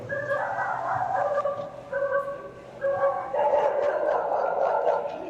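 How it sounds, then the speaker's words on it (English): Several dogs bark and yelp over one another in repeated bursts, moderately close, with an excited, overlapping chorus and no clear talking, at a dog bite prevention seminar. "So you hear the dogs barking."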